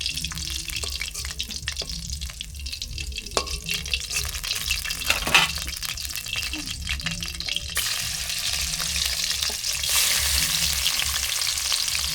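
A fish head sizzles in hot oil, a steady close frying crackle running throughout, with occasional stirring scrapes and a brief clatter midway, the hiss swelling louder toward the end. The fish is snakehead caught from a beel, cooked in a Bengali village kitchen.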